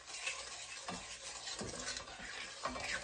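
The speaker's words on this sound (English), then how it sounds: "So stir this until it melts." A spoon stirs pecan candy mixture in a pot as it melts, giving soft repeated scraping strokes with faint sizzling underneath and no talk.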